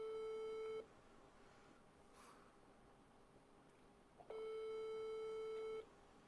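Telephone call going unanswered, two long steady ringback tones separated by a quiet gap of several seconds, heard plainly over a faint background.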